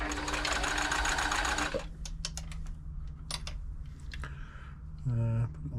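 A Riccar 8400 sewing machine stitches a triple zigzag, its dense rapid chatter loud and steady for about two seconds before stopping, followed by scattered clicks and handling knocks and a brief low motor whir near the end.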